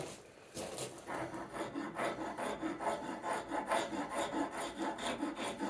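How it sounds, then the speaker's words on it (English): A half-round file rasps a purpleheart wood knife handle in rhythmic, close strokes, each one a gritty scrape, repeating steadily for several seconds. "So I'm going to take the half round file, rasp this out a little bit the way I want it."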